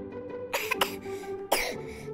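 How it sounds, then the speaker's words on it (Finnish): A Baby Annabell toy doll gives a few short coughs, two quick bursts then a third after a pause, faint over a low steady background. "mitä sinä yskit?"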